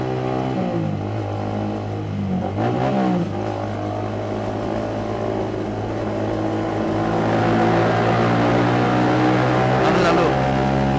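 A motorcycle engine revs inside a road tunnel during a Sunday-morning group ride in Jakarta, a steady loud drone with rising throttle swells and boomy tunnel echo, joined by other traffic, with people talking over it.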